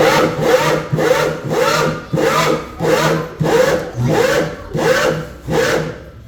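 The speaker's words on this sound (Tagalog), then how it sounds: "Kasi matalas bago yung pambutas eh. Hindi siya nahirapan. Butas na," A drill with a new, sharp bit bores a hole through a wall at a housing construction site, giving about eight evenly spaced, loud grinding bursts that rise and fall in a steady rhythm.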